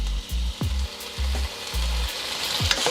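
Chow mein pieces sizzle steadily in an oiled pan, with a continuous frying hiss broken by soft scraping thumps and clinks as the pieces are turned over several times.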